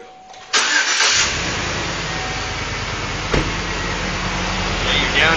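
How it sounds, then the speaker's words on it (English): A car engine cranks briefly and catches during an oil change, then settles into a loud, steady idle close to the microphone, with a small bump in level partway through. "you're going to turn the car on"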